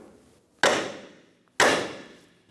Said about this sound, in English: We're going to hit right here with a hammer to release the ball joint out of the knuckle,